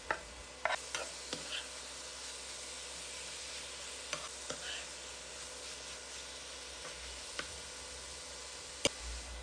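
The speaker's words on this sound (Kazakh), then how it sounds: "осының үстіне тауық филесін салып жақсылап араластырамыз" Chicken fillet and onion sizzle in a pan, a low continuous frying hiss broken by occasional scraping clicks of a utensil stirring the pieces.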